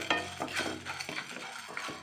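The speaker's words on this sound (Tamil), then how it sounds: "ஃப்ளேம் மீடியமில் வச்சு வறுத்துங்க துவரம்பருப்பை." Toor dal being dry-roasted and stirred in a pan over a medium flame for rasam, giving steady scraping and rustling with light sizzling and occasional clinks of a spoon, close up with no talking.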